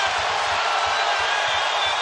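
A basketball arena crowd in Charlotte cheering, a loud sustained roar filling the hall, with faint rhythmic thumps underneath throughout.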